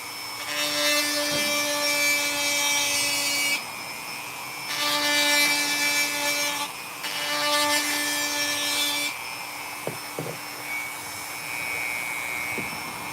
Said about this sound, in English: Now, I sand this whole face down once I get the cracks all in.